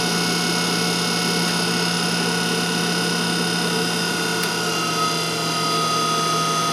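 An industrial pump motor runs under load while flow through the pump is throttled, giving a steady, loud mechanical hum with sustained tonal whine layered over broadband noise, continuous and close.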